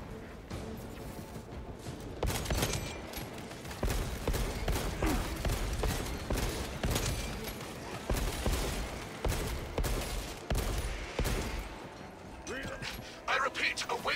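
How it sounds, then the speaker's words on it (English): Pistol fire in the video game Space Marine 2 comes as repeated sharp shots in quick bursts over a dense battle din of explosions and clatter, with a voice talking at times. "I should use a pistol for a little bit."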